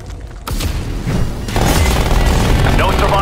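A sentry turret fires in a Call of Duty: Black Ops zombies match on the Cartel map, loud rapid bursts and booms merging into a dense, sustained barrage with a voice talking over it.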